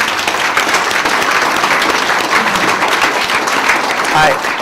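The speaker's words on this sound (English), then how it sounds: "Can we give a quick round of applause for our sponsors again?" Loud, steady audience applause fills a keynote hall as the crowd claps for the event's sponsors, dense and continuous throughout before easing slightly at the end.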